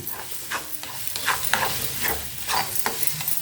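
Scrambled egg podimas is stirred in a pan, with a steady close sizzle and soft scraping strokes repeating every second or so.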